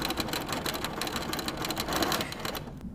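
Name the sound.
sewing machine sewing a quilt block seam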